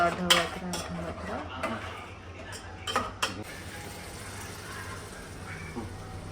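A spoon scrapes and clanks against a metal pot while chicken curry is stirred, with several sharp metallic knocks early on followed by softer rhythmic scraping and a low background hum.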